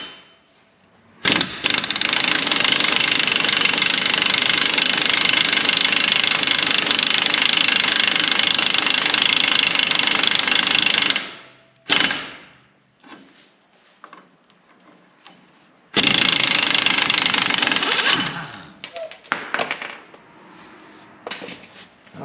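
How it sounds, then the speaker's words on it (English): An impact wrench with a 1 3/4 inch socket loosening the wheel hub nut on a 1997 Ram 1500 4WD, a long loud rattling burst of about ten seconds, then short bursts, a pause, and another sustained run. "use our impact wrench on this"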